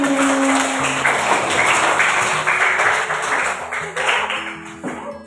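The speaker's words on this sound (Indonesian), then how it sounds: "Tepuk tangan buat Dani." Applause from a group of people in a school setting, steady clapping that continues throughout, fairly loud and close, with some voices and tones mixed in.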